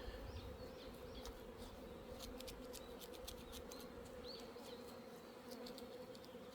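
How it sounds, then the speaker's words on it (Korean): A honeybee's steady buzz drones close by indoors, constant and fairly loud, with faint clicks and no talking. "지금 벌이 한 마리 들어왔는데 앵앵앵앵 거리고 난리도 아니네"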